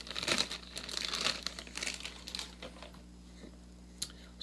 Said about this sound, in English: So it comes wrapped, and then it also comes in plastic